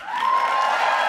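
A live audience at a drag event breaks into applause and cheering, a dense, loud wash of clapping and voices filling the whole brief moment.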